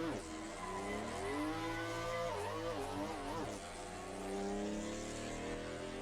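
A race car in the video game Assetto Corsa EVO revs through its gears, its engine note climbing, dipping and wavering, then holding steady. The engine is loud and continuous, with no talking over it.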